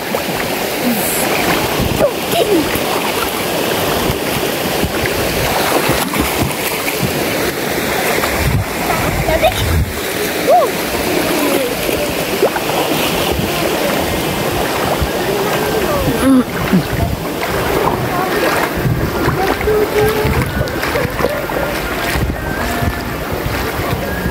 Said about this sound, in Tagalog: Ayun ang ating bangka. Parating na.